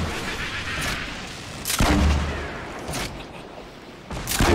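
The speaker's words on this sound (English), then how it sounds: "Start shooting that shit. Start blind firing at everything." Gunfire in the Fortnite video game, heavy booming shots bursting out in separate loud blasts a second or so apart over a rumbling background.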